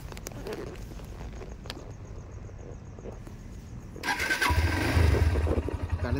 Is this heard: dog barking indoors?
no